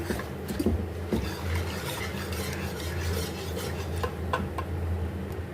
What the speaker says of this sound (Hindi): और इसको एक दफ़ा हम अच्छे से मिक्स कर लेते हैं।